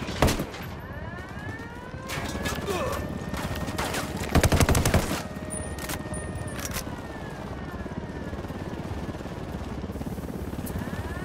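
Sustained gunfire from inside a lab during a Ghost Recon Wildlands firefight, with sharp close shots and rapid bursts over a steady background of battle noise, peaking in a dense volley midway.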